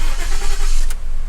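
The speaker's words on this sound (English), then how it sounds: "see if this key gonna start the car" A 2013 Ford F150 starting on a newly programmed second key: a loud, close engine crank and catch rumbling steadily throughout, with a brief bright click or whine near the end.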